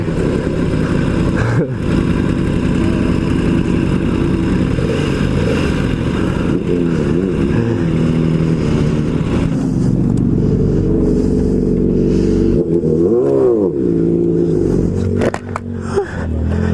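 A Yamaha R1M motorcycle climbs a mountain road, its engine loud and close, droning under strong wind buffeting, with rising and falling revs as it accelerates and shifts, easing off briefly near the end.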